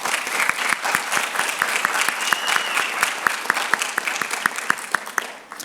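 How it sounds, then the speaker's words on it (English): At a physician assistant program white coat ceremony, the students applaud themselves, a crowd's steady clapping with one sharp, rhythmic clapper standing out close by, fading near the end. "Please give yourselves a round of applause."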